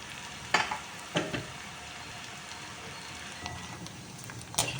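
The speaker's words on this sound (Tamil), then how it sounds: "இப்போ இதை காஞ்ச எண்ணெயில் போட போகிறேன்" Hot oil sizzles and crackles steadily, with a few sharper pops and spatters breaking through the soft continuous hiss.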